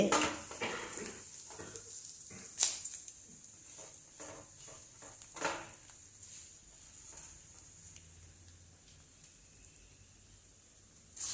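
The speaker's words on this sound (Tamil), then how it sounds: "இவ்வளவும் கடாயில் எண்ணெய் ஊற்றி வறுக்கணும்" Mustard seeds and urad dal fry in hot oil in a kadai, giving a soft continuous sizzle with scattered pops and a few clinks of a stirring spoon against the pan.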